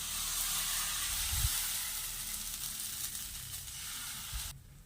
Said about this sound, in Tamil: மாவு ஊற்றிட்டு இதை அப்படியே சுற்றி விடுங்க.